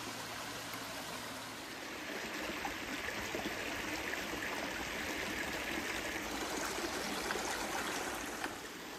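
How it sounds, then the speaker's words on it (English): A small stream that feeds a swimming pool flows steadily, its continuous rushing, trickling wash holding an even level throughout with no voices. "this will be the stream that feeds into it eventually"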